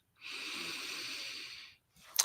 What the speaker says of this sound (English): Breathing in one more time